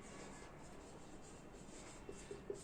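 A pen scrapes softly across paper while an equation is written out during a maths lesson. The writing is very quiet and close, with a few small taps and strokes near the end.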